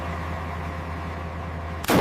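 An M1 Abrams tank fires a 120mm training round during a live fire exercise, a single sudden loud blast at the very end following a steady low engine rumble.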